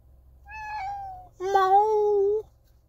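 Two drawn-out meows from a small male cat, close and clear in a quiet indoor space, the second louder and longer than the first, with no speech.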